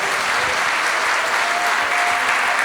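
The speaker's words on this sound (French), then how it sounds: "Somebody clap the Lord." A church congregation clapping for the Lord, dense sustained applause from many hands filling the room at a loud, steady level.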